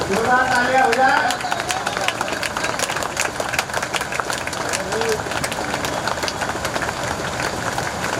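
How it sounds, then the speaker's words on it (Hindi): An audience at a Dhammachari diksha ceremony applauds steadily, a dense crackle of many hands continuing at moderate loudness after a voice briefly speaks over a loudspeaker. "जोरदार तालियां हो जाए।"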